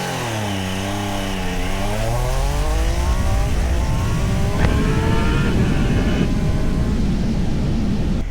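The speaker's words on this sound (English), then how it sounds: "let's give it the old acceleration test and see what it's like off the line" A 2026 Triumph Trident 800 motorcycle pulls away hard from a standstill, its engine note climbing steeply through rising revs and gear changes, loud and close with wind roar building as speed increases.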